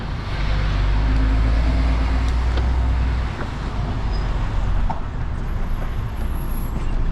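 A truck reversing out onto a main road, its low diesel engine drone loud and close, steady throughout with a slight dip partway, against surrounding road noise.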